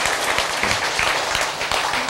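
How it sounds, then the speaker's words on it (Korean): A small group claps together in a room, a short burst of fairly loud, close applause with a few distinct hand strikes standing out. "박수."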